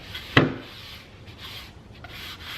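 Cloth or a hand rubbing paint into wooden spindles, a single sharp scrubbing stroke near the start followed by faint, soft rubbing textures, close and quiet with no talk.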